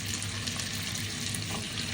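Chicken drumsticks and thighs sizzling in a preheated pan while browning to golden, a steady, close, moderately quiet crackle and hiss with no talk.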